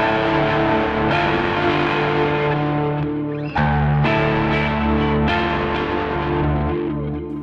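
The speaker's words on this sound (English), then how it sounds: "at the moment you'll hear that delay is only on one side" Gretsch 5622T electric guitar through a TC Electronic Plethora X3 pedal with delay on one side, strummed chords ringing loud and sustained, with fresh attacks every second or so and echoing repeats trailing underneath, no talking.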